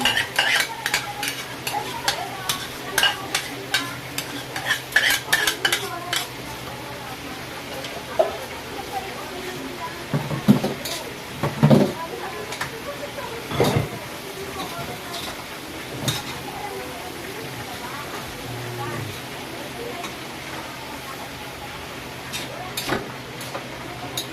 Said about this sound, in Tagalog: Yan, lagyan natin yung giniling.